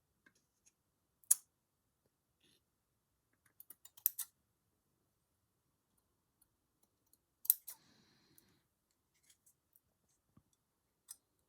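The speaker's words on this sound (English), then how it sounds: "I just need to trim off a couple of the fringes where they're a bit longer." Small scissors trim fringes on a miniature dollhouse table, a few faint, scattered snips and clicks in quiet surroundings, with long silent gaps between them.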